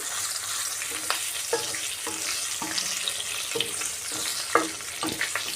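Stuffed bitter gourd frying in a pan gives a steady close sizzle, with repeated soft scraping and stirring knocks from a utensil every second or so.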